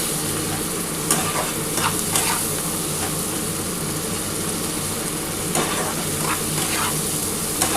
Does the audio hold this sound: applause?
no